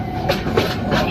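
Sealdah Puri Duronto Express train running on the Kolkata to Puri route, heard from inside as a steady loud rumble with rhythmic wheel clatter recurring roughly every third of a second.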